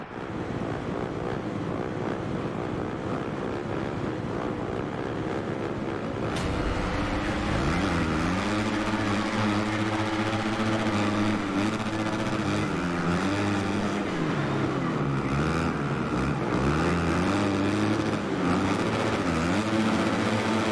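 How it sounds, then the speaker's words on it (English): Supercross motorcycle engines warming up at the start line in Supercross 6, a continuous dense buzzing drone of several bikes with rising and falling revs, fairly loud and steady, no voices. "The riders are lined up and are warming up their engines."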